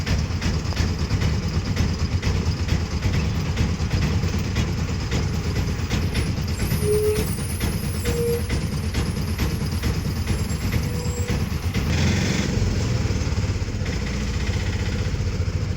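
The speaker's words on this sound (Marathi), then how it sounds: "ही बघा रिक्षा आली तोपर्यंत." A rural auto rickshaw engine drones steadily nearby as it pulls up, a continuous rattling hum that grows louder and rougher near the end.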